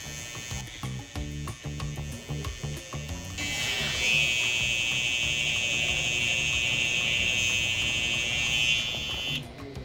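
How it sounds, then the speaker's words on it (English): Electric beard trimmer buzzing close up while edging the top line of a beard, a steady high whine that cuts in and out at first, then runs continuously and loud before stopping. "So I'm gonna take my trimmer and create a nice edge on the top here."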